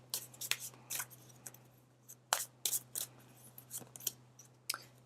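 Tarot cards being shuffled by hand close to the mic, a quiet run of quick crisp riffling bursts in an irregular rhythm over a steady low hum, with no talking.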